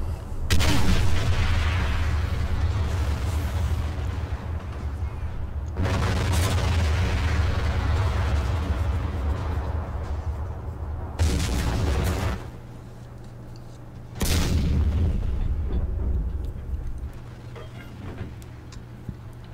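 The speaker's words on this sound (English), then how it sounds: "So the artillery's just doing its thing." Artillery bombardment in a World War I video game set at the Somme rolls on as heavy, sustained rumbling with a few sharp onsets and brief drops between barrages.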